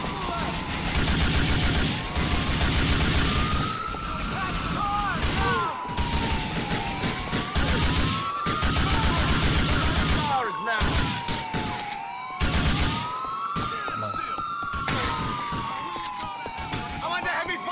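Gunfire in a Grand Theft Auto 4 heist comes in repeated bursts and volleys under wailing police sirens, with voices shouting over the chaotic game scene.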